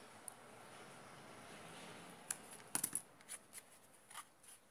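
Scissors trim the excess material from a small handmade plant pot: a few faint, close snips in quiet surroundings, scattered unevenly over a couple of seconds.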